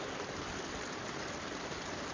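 A stream of gently moving water on a boggy Peak District moor, a steady, close, broadband rushing babble that stays even throughout with no voices.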